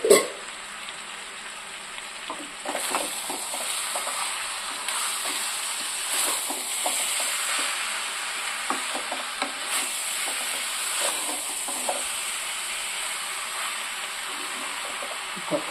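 Chicken curry with mint fries in a pan while a spoon stirs it, giving a steady, close sizzle with soft scraping and clicking strokes throughout. The sizzle stays constant and no one speaks.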